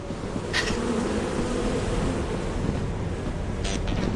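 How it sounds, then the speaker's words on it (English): Bees buzzing in the video game Lethal Company, a steady, dense drone that holds at an even level throughout, with brief brighter hisses near the start and end. "Hey, hey there, little bees."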